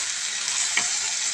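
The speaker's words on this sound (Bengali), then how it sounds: "এরকম তেলের উপর ভাজতে ভাজতেই এগুলো সুন্দর হবে" Okra sizzles in hot oil in a pan, a steady bright hiss with a faint stir or scrape near the middle. Nothing else is heard over the close, continuous frying.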